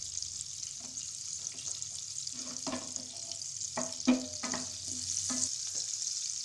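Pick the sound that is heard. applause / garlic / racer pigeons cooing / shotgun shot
garlic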